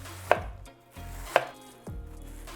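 A carrot shaved down on a board for coleslaw, heard as three distinct, sharp strokes about a second apart, each a crisp thud followed by a brief scrape, close up with no talking.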